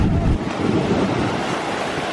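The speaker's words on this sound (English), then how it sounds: "even on waves like this, look at all you get is that little powder at the end of the wave" Ocean waves break on a Florida beach, making a steady broad wash of surf with wind buffeting the microphone; no voices.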